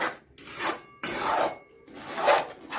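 A spatula scrapes and stirs egg bhurji stuck to the bottom of a pan in rough, rasping strokes, close and fairly loud with short pauses between passes.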